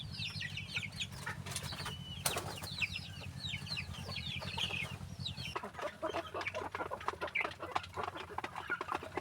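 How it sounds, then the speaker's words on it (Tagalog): Four hens lay eggs in a coop, clucking and cackling in repeated bursts close by. A low steady hum runs underneath for the first half, and the clucking continues alone after it stops. "Apat na bae ang nangingitlog mga idol."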